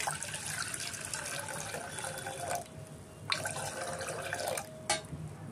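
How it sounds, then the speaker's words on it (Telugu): Jowar starch water (ganji) pours into a bowl in a close, continuous liquid trickle, stopping twice briefly before resuming, with no voices. "గిన్నెలోకి కొంచెం గంజి తీసుకుందాం."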